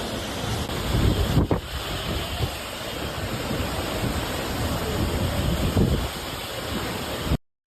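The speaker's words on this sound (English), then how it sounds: "that's what 81-mile-per-hour gusts looks like right there" Hurricane wind with 81 mph gusts roars against a microphone in Kingston, Jamaica, a loud continuous rumble with surging bursts and a wash like surf, ending abruptly.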